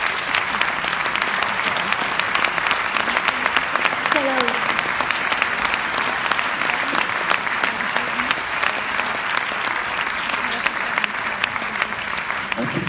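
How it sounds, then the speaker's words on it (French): Loud, sustained applause from a theater audience at a French film screening as guests are invited on stage, a thick continuous roar of clapping with faint voices and cheering mixed in. "Vous pouvez les applaudir."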